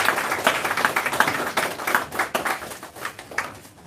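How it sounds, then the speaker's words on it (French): An audience claps after an opening speech at the ceremony for a community engagement workshop, sparse individual hand claps in an uneven patter, moderately close, with no talking over them. "Tonnerre d'applaudissements pour notre cher maître"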